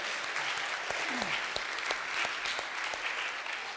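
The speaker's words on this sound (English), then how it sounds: "Let's give the men that cooked breakfast a round of applause." An audience claps for the men who cooked breakfast at an Easter Jam gathering, a modest, fairly quiet round of scattered hand claps with a voice briefly heard underneath.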